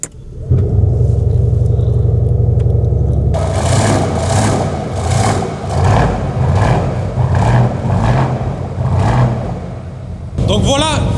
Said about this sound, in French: Ce qui reste à vous présenter quand même, c'est la sonorité de ce monstre aujourd'hui que je vous présente. Donc je vais le démarrer tout de suite.